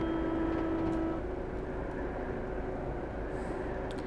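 A train horn in Train Simulator 2016 sounds a steady tone at the start, over the constant loud rumble of the locomotive running on the rails, with no talk.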